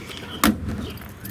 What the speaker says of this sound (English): Very nice thud when you close the door.